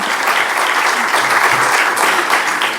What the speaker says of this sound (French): Je vous propose de l'accueillir et de l'applaudir pour l'encourager